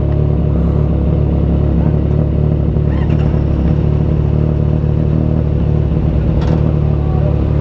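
A Zontes 703RR sport motorcycle engine runs steadily and loudly throughout, a continuous close rumble with slight revving, alongside other Chinese sport bikes during a road test.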